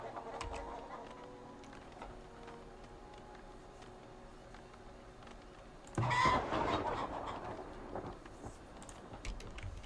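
Chickens cluck softly in a Farthest Frontier village-building game, faint repeated clucks over low ambient game sound, with a louder burst of noise partway through.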